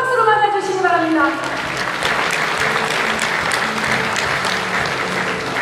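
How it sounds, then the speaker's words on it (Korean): A packed auditorium audience at a party rally breaks into loud, sustained applause as a voice trails off at the start. The clapping stays dense and even to the end. "여러분 다시 한번 큰 박수로 만나주시기 바랍니다."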